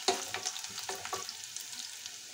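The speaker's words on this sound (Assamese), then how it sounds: "এতিয়া পিয়াজখিনি অলপমান ৰংটো হলনি হোৱালৈকে ভাজি লম" Sliced onions fry in oil with cumin, bay leaves and green chillies, giving a soft, continuous sizzle with light stirring clicks and small pops, quiet and close, with no voices.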